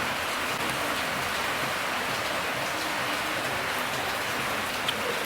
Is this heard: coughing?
no